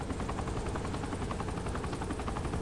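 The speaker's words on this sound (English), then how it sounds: "The helicopter ended up flying into his own missile." A video game helicopter's rotor chops steadily and loudly throughout, a dense, continuous thrumming roar close by, in Saints Row: The Third.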